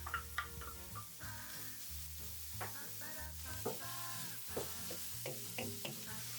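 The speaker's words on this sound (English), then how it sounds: "add 100 grams of ground beef and fry until browned" Ground beef and onion fry in a pan, a steady bright sizzle under repeated scraping and tapping of a spatula as the meat is stirred until browned.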